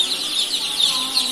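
A constant, fairly loud chorus of high chirps and peeps from joper chickens crowded in a brooder, with no talking.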